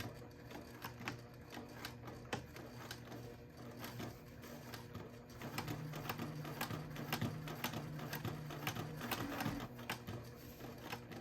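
A domestic sewing machine runs steadily, its fast mechanical chatter and needle ticking continuous as it top-stitches a few back-and-forth stitches across a fabric wristlet, fairly quiet and alone without talk.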